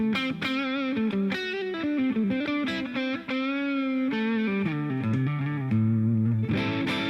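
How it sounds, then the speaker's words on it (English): An electric guitar played through an overdrive pedal, with sustained, saturated notes and chords ringing close and loud in an unbroken phrase, with no talking. "And then you start off and get you a good overdrive setting"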